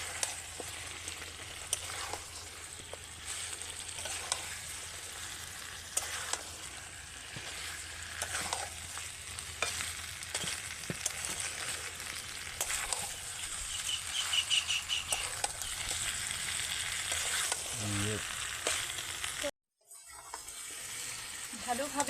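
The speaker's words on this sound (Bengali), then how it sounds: "এইবার 4 থেকে 5 মিনিট ধরে হালকা আঁচে মাংসের সঙ্গে মশলাটা কষিয়ে নিতে হবে।" Chicken cooks with spice paste over a low flame in a steady, gentle sizzle, with frequent soft stirring scrapes and a brief cut near the end.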